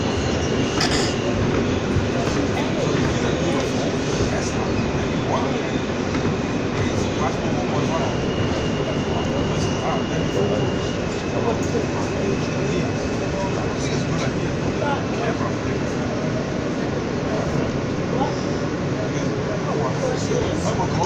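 A New York subway E train at the 14th Street station produces a loud, continuous rumble and rattle close by, with wheel clatter throughout and a voice speaking over the noise.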